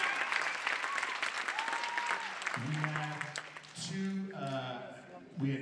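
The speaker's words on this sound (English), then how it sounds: "One more big round of applause." At a high school Christmas choir concert, the crowd applauds in a lively, dense clatter, with a voice speaking over the clapping partway through and a few whoops rising above it.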